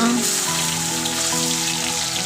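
Mustard seeds, cumin, asafoetida and finely chopped onion sizzle in hot oil for a tomato chutney, a loud, dense crackling hiss like heavy rain that runs unbroken and close.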